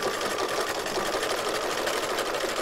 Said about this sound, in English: I'm going to select a stitch, like a scallop stitch. And I'm going to sew.